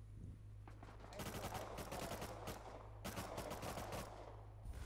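Rapid automatic gunfire bursts in a PvP video game, two dense volleys of repeated shots over a steady low hum, fairly quiet overall.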